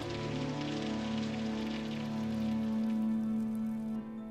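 Steady rain falling on a surface, a continuous soft patter with a faint hum beneath, ending abruptly.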